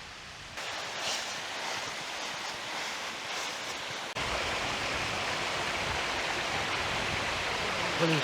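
Waterfall in the Bohor hills of Slovenia, a steady broadband rush of falling water, close and continuous, growing slightly louder partway through with no speech.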